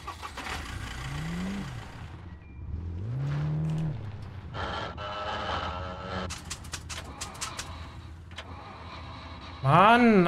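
A car engine in the survival video game SCUM revs and rises in pitch several times, loud and close, with people talking over it.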